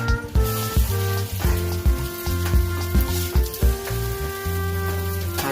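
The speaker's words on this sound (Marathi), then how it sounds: "अद्रक लसूणची पेस्ट आता आपण टाकलेली तेलामध्ये" Ginger-garlic paste sizzles loudly in hot oil and butter, a dense, crackling fry close up with repeated clattering thumps as it is stirred and mixed in the pan.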